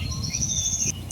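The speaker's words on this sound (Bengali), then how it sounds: "পাখিটা ডাকতেছে কত সুন্দর।" A bird calls outdoors in rural Bangladesh on a breezy day, its thin, high whistling notes held and repeated over a low rumble of wind.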